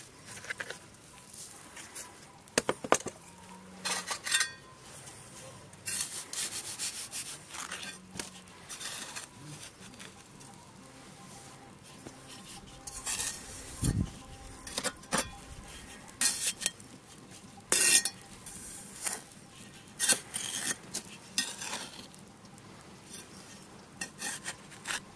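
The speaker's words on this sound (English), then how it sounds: "I'm quite stingily trying to save the sand and sticking it back in the bucket" Foundry casting sand is scooped and scraped back into a bucket, giving gritty, irregular stirring and pattering scrapes with occasional sharper clinks, fairly close and quiet overall.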